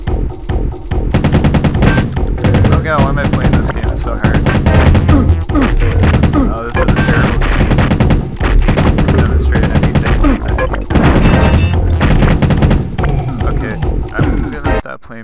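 Dense, loud gunfire and explosions from the video game Doom Troopers rattle almost continuously with rapid bursts and crashes, a voice faintly mixed in under the constant barrage.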